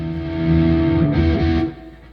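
A GearIt GST-200 SoCal Series electric guitar rings out through distortion as a sustained, effects-laden chord that swells and then decays. It is loud and close, with no talking.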